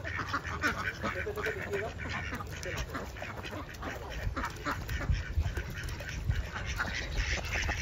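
Ducks quack repeatedly in the background around a lotus-growing container garden, a busy stream of nasal calls mixed with outdoor ambience and a person talking nearby.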